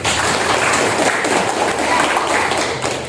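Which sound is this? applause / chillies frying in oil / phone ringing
applause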